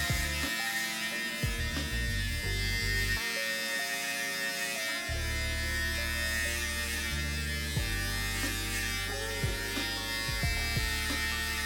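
A Babyliss Black FX One hair clipper buzzes continuously while cutting hair, a close, steady electric hum with slight shifts in pitch as it runs through the hair.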